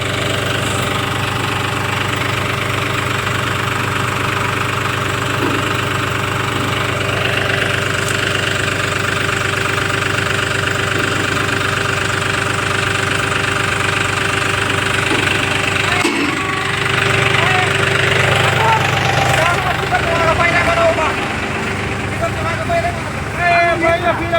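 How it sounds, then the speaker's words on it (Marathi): A heavy diesel tractor engine chugs and knocks steadily at close range, revving with its wheels stuck spinning in deep mud, rising slightly in effort near the end, with no pauses throughout. "जसं जसं ट्रॅक्टर फिरवतील तसं तसं खोल गाळामध्ये जात आहे"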